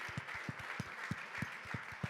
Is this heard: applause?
yes